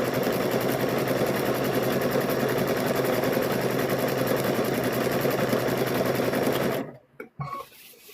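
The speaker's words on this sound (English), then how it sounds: "Just keep stitching." A sewing machine stitching quilt squares runs in one steady, loud, close motor whir with a rapid needle chatter, then stops abruptly near the end, leaving a few faint clicks and handling noises.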